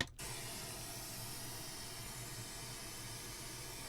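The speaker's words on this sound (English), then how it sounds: "Let me turn on some white noise." Steady, loud broadband white noise fills a room, starting abruptly after a brief moment of near silence and holding constant with no voice over it.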